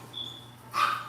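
A dog gives a short bark or yip in a home kitchen during holiday cooking prep, brief and moderately close after a faint thin tone.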